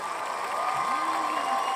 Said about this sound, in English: I gotta give you a round of applause for that